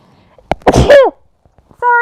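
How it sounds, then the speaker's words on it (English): A single close, sharp sneeze bursts out with a quick intake and explosive release, followed by a short tonal sound and near silence. "Oh, I'm gonna sneeze."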